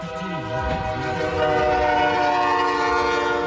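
A train rumbles past close by, its horn sounding a long sustained chord throughout, loud and steady over the rolling noise of the cars.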